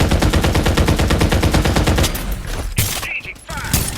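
Sustained automatic gunfire in the shooter game Farlight 84 during a city battle, a fast even rhythm of loud close shots for about two seconds, then scattered bursts and crashes.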